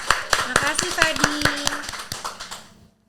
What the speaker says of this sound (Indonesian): Tepuk tangan sekali lagi buat Shalom dan juga Wulan Guritno